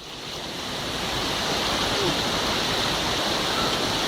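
Flash flood water rushing at Latawan, Basilan, a loud continuous roaring wash of turbulent water that swells slightly at the start and then holds steady throughout.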